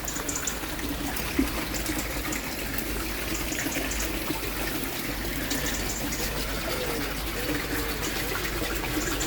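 A steady, continuous rush of water from a pump pours into a swimming pool in icy winter conditions, loud and close without a break.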